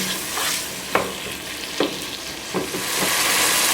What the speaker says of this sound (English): we're going to fry this tomato along the spices and onions until all the juices from tomatoes are pretty much gone